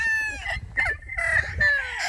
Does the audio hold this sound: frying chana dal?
no